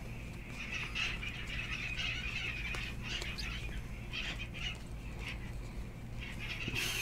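A steady, loud chorus of outdoor birds squawking and honking like chickens, with overlapping harsh calls throughout over a constant low hum.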